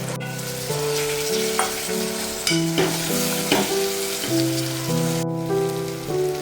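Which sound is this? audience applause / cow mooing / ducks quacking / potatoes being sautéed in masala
potatoes being sautéed in masala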